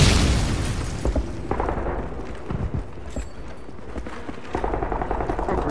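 A grenade blast in the game Modern Warfare 3 during a private shotgun match: a loud opening boom rumbles away, followed by scattered pops, thuds and a second burst of noisy rumble near the end.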